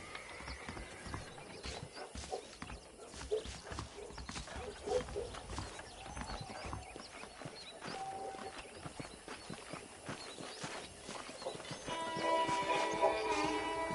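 Horse hooves clip-clop steadily at a walk in the Western video game Red Dead Redemption, faint and continuous, with a soft tonal swell rising near the end.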